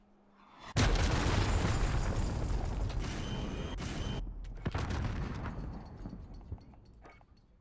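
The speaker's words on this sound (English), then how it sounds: "Enemy cruise missile incoming." A cruise missile strike in a Call of Duty free-for-all match: a sudden loud blast erupts into a long, dense rumble of explosions and crackling debris, then a second burst hits before it slowly fades, with no talk over it.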